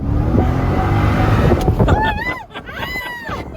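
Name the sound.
supercharged sports car accelerating hard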